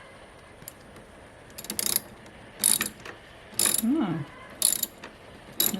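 Ratchet wrench clicking in several short bursts while loosening a bolt during an EMP shield install on a car, with pauses between strokes and a brief spoken exclamation.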